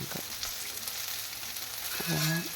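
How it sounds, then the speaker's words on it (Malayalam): Onions sizzling as they sauté in a hot pan for onion sambar, a steady crackling hiss close by, with a brief faint tonal sound near the end. "ഇനി വാട്ടിയെടുക്കാം"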